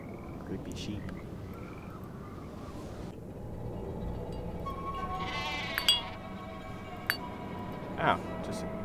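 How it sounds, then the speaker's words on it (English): Sheep in the Nancy Drew game The Haunting of Castle Malloy bleat a few times against a murmuring ambient background, with short clinking accents near the end. "Sheep."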